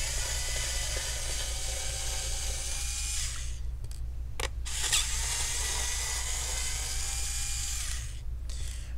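An electric screwdriver unscrews screws from a Dell laptop, a steady high whirring motor running close and continuous, broken by two short pauses before it resumes.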